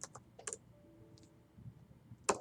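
A few quiet, scattered keystrokes on a computer keyboard as a short command is typed, soft clicks spaced out with a sharper tap at the end.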